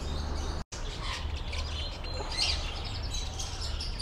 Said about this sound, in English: They got like an aviary here, so I'm going to have a quick look over there.